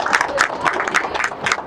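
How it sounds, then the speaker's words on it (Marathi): Audience at a real estate expo applauding the media, a lively burst of many hands clapping in an irregular patter, fairly close, with some crowd voices mixed in. "तुमच्यासाठी जोरदार टाळ्या मीडियासाठी"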